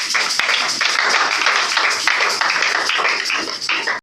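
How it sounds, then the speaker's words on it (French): A church congregation applauding at a Sunday service, dense steady clapping from many hands filling the room with no pauses, loud and close, ending abruptly. "Parole du Seigneur. Nous acclamons très fort."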